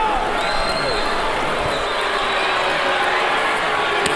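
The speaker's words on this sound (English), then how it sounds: "The crowd comes to its feet, and they cheer as one." A boxing arena crowd cheers at the close of the Mayweather vs Guerrero fight, a loud, dense, sustained roar with scattered whistles and shouts.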